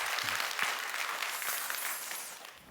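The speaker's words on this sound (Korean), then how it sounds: "다시 한번 영광의 박수 하시겠습니다." A church congregation claps steadily in a dense wash of applause, fairly loud and sustained, tapering slightly at the end.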